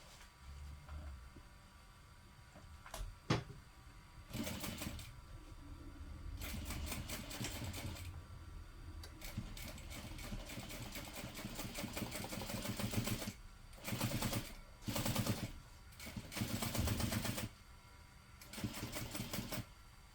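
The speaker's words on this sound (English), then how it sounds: "now we want to top stitch using a shorter stitch length." A home sewing machine top stitching around a drawn box at a shorter 3.5 stitch length, heard as close mechanical whirring in several runs of varying length separated by brief pauses, with no talking.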